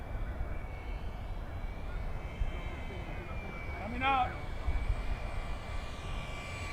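An FMS P-39 Airacobra 980mm RC model airplane makes a slow pass over the runway with flaps down. Its thin electric motor whine drifts by faintly, with a brief louder sweep as it passes, while someone talks.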